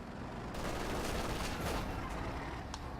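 Continuous machine gun fire from a pair of guns in the Company of Heroes strategy game, rapid bursts rattling loudly and steadily throughout with a few sharper reports on top, with no talk.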